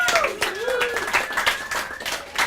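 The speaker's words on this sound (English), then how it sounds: "Let's have a bunch of applause." An audience at a poetry evening marking a tenth anniversary claps steadily for a couple of seconds while voices carry over the applause.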